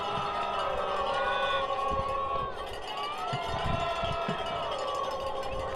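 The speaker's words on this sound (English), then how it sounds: "The most lively Red Wolves crowd we've had to date." A lively home crowd at a Chattanooga Red Wolves soccer match, a steady roar of voices and cheering with a sustained tonal chant or horn line over it, while a commentator speaks.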